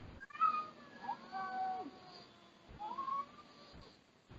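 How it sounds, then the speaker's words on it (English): Several house cats fighting in a basement, giving drawn-out meows and yowling caterwauls in two bursts, fairly close and moderately loud, with no talk over them. "I have 3 cats that appear to be attacking each other in my basement"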